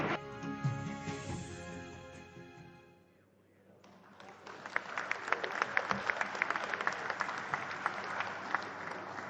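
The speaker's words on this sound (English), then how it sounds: "That applause can come even louder, distinguished ladies and gentlemen." Audience applause fills a hall at a memorial lecture, a dense burst of clapping rising after a brief musical close and lull, sustained and close with sharp individual claps standing out.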